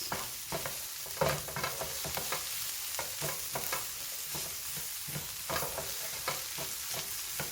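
Chicken browning with spices and a little cayenne in a nonstick pan gives a steady close sizzle, broken by repeated scraping stirs at an even rhythm, with no voices.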